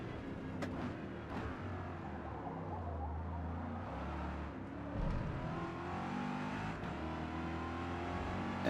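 A Ford GT race car in Forza Motorsport 2023 races in an A Class open tour, its engine droning and revving continuously with shifting pitch, with a brief surge near the midpoint as it accelerates out of a corner.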